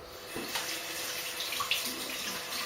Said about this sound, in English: Doesn't feel like it's clogging, but I rinse it anyway.